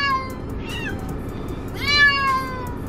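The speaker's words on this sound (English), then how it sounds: "Last time I think it took them 2 or 3 hours to stop meowing." Cats meowing inside a fully packed moving van: two loud, drawn-out meows, one in the first second and a stronger one near two seconds, close by over a low steady rumble.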